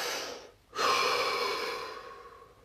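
A single deep breath, with a quick sharp intake of air followed by a long, slowly fading exhale, close and clear with no talking.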